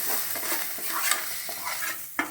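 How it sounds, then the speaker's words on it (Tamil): Masala of onion and tomato frying in a pan with a soft steady sizzle, punctuated by a few light scrapes and taps of a spoon stirring, no voices. "இது அத்தனையும் நான் சேர்த்துட்டு இதை வதக்கிறேன் பாருங்கள்."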